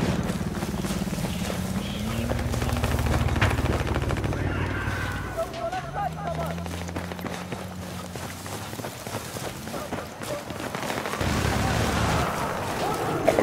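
Bursts of rapid gunfire ring out in the shooter game SpaceDockers Rogue Transmission, scattered sharp shots mixed with electronic tones and sweeping game sounds, fairly loud, without audible speech.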